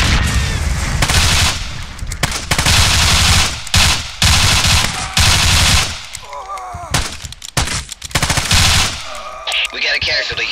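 Bursts of automatic gunfire and sharp shots during close-quarters training in Ghost Recon Navy SEALs, loud and repeated with pauses between volleys, followed near the end by quieter clatter and faint talk.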